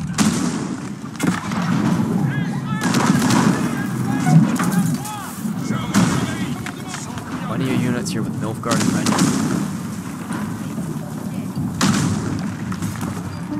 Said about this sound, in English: Cannons firing away at enemy buildings.